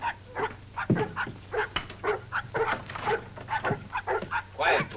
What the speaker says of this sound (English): It's not a man. It's a dog. He's hurt. He's limping.